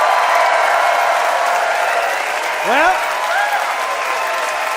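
A studio audience at a comedy debate show applauds and cheers to vote for Graham Clark, a loud, sustained clapping wash with a brief spoken word over it.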